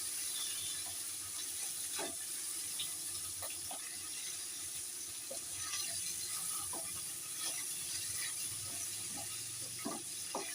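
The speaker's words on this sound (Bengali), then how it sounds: "এবার আমি এদিকটা ভেজে নিই।" Hilsa fish head frying in oil, a faint, steady sizzle with scattered small crackles and pops spread irregularly throughout, quiet and close.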